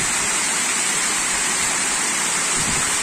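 Steady, loud rush of water from the Sendang Tlimo waterfall in the Kabuh forest of Jombang, a dense continuous roar heard close up with no voices over it.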